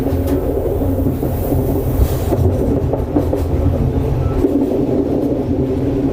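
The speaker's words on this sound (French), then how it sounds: "quand le train franchit cette partie de voie à pleine vitesse" A train running at full speed on the Aurillac–Figeac line, a loud continuous rumbling roar with rhythmic clattering of wheels over the track, heard from on board.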